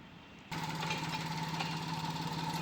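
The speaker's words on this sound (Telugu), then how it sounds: "ఒకసారి ఇంజన్ కండిషన్ చూపిస్తాను చూడండి ఫ్రెండ్స్." A 2017 Maruti Suzuki Alto 800 LXi petrol car engine starts and settles into a steady idle, with an even, slightly ticking hum that carries on loud and close after a brief quiet moment.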